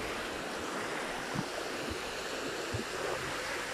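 Sea surf washing steadily onto a beach with clean, clear, foamy water, a continuous broadband roar with soft swells and a few low thumps, heard up close with no talk.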